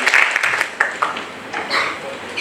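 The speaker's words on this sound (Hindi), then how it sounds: "तालियों की गड़गड़ाहट के साथ स्वागत कीजिए।" Audience applause fills an auditorium at a public talk on India's Emergency, a dense, steady wash of clapping that stays loud throughout the short stretch.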